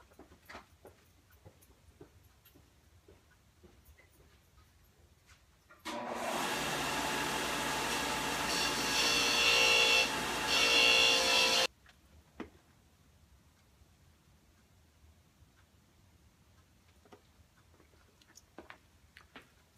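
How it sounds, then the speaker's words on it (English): A bench grinder works on a Yella Terra Platinum race rocker part for a 409 engine build, making a steady, loud grinding whir of about six seconds between quiet stretches of room noise. "Take it to the grinder."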